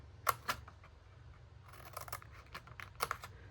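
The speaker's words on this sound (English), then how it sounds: "I'm just going to snip the side of my box here" Scissors snip through the side of a paper craft box in a few sharp, close cuts, two quick clicks early on, a scattered run of small crisp snips in the middle and another pair of clicks near the end, with no talking.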